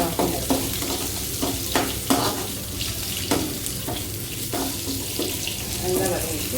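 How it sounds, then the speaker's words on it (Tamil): Onions and cumin sauté in a pan with a dense, watery sizzle. Several soft stirring knocks come through at uneven intervals. "வெங்காயம், வதங்கிட்டு கொஞ்சமாக சீரகம்"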